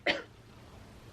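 A single short cough bursts out near the microphone, followed by a quiet room.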